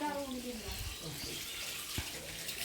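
Water splashes and runs while a laundry washing stone is scrubbed clean with soap, a close, continuous wash with short knocks and splashes, and a voice briefly speaks at the start.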